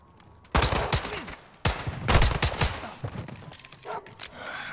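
Gunfire in Call of Duty Modern Warfare 2, set in Mexico: a loud burst of several rapid shots, a pause, then another heavy volley of close gunshots with a thudding tail, and a quieter clatter at the end.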